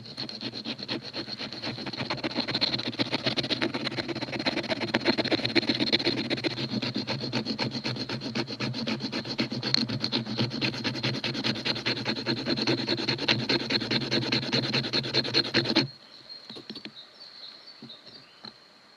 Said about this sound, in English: Also, I will scrape the wood to make some scrambles.